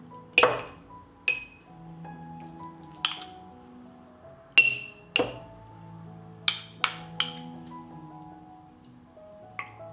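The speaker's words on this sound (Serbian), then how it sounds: "U svaku teglu sipat ću po supenu kašiku pavlake" Sharp glassy clinks ring out several times at an uneven pace as a tablespoon of sour cream is spooned into each glass jar, with a quiet steady hum underneath.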